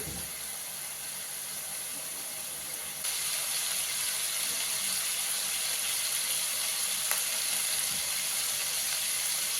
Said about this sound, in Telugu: ఐదు నిమిషాలు బాగా వేగుతుందండి